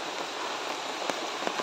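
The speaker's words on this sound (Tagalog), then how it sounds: "Lumakas yung ulan." Heavy rain pours down in a steady, loud hiss, with a few sharper drops standing out against the constant wash of water.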